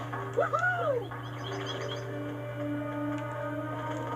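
Seagull calls in the Jak and Daxter: The Precursor Legacy video game: a couple of bright, sweeping cries near the start over a steady low game-ambience hum, followed by faint chirps as the background continues.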